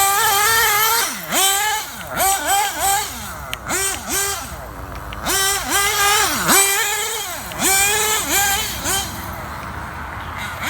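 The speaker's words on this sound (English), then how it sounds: "We're cutting the grass." Nitro Losi 8ight RC buggy on old fuel, its small engine screaming and repeatedly revving up and dropping off as it plows through tall grass, loud and close, with voices talking intermittently over it.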